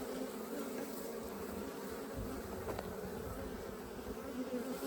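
Honey bees in a bee yard buzzing at a hive during a queen fight, a dense continuous drone close by with a faint hum throughout.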